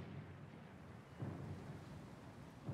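Heavy sheeting rain in the fantasy video game Pillars of Eternity 2: Deadfire, a steady wash of downpour with low rumbling swells like distant thunder rolling through.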